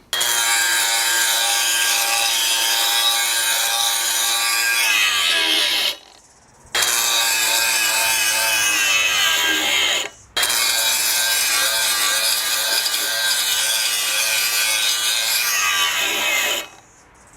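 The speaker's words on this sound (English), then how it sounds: "but then again, it's only an 18 volt grinder" A Milwaukee M18 18-volt cordless grinder with a Forge battery cuts loudly in a steady high whine, bogging down and stalling three times with brief silences before spinning up again.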